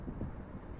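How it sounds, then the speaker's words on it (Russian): Gusting wind buffets the microphone during a snowstorm beside the ice-covered Okhta river in St. Petersburg on a winter evening, a steady low rumble with no speech. "Порывы ветра даже чувствуются."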